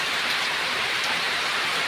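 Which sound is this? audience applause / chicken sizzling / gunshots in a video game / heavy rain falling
heavy rain falling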